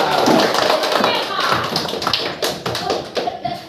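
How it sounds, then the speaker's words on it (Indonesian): A primary school class claps for classmates during a coding lesson, scattered uneven claps and taps with children's voices mixed in, thinning into a few sharp separate claps toward the end. "coba tepuk tangan dulu buat mereka"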